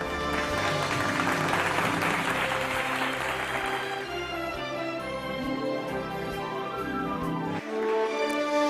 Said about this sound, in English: Let's give them a virtual round of applause.